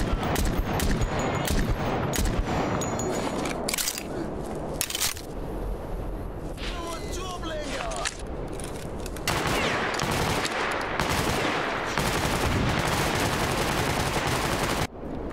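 Heavy gunfire in the shooter game Stalker Clear Sky, at the military warehouse, as dense, loud bursts of automatic and single shots rattle almost continuously with short breaks and no talking.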